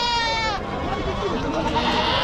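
Goats bleating at the crowded Chakan goat and sheep market, one sharp bleat up close at the start, then a wavering call amid a chatter of nearby voices.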